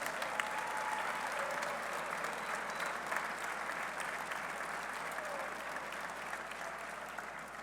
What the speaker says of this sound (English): Please stand up and let us give you a round of applause